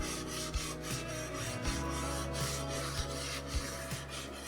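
A 1940s Kinney Aluminum Co. Flavor Seal aluminum saucepan is scrubbed clean by hand, a continuous rough rubbing with rhythmic strokes and occasional small knocks, close and steady.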